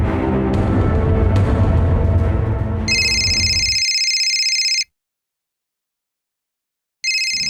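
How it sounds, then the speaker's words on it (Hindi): A landline telephone rings loudly in an office in a crime drama, two electronic ring bursts separated by silence, the first rising over a fading rumble of background noise. "अभी लैंडलाइन का फोन बजेगा, उठाना मत सर।"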